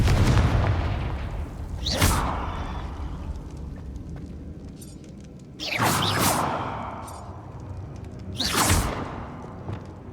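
Bombarda and Confringo spell blasts cast in the video game Hogwarts Legacy: three separate whooshing blasts, each rising sharply into a booming burst that then fades into a rumble, spaced a few seconds apart with no talk.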